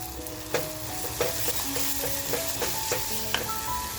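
Grated tomato fries in a pan for tandoori mutton keema, a continuous close sizzle broken by regular scraping stirs of a spoon, with faint steady tones running underneath.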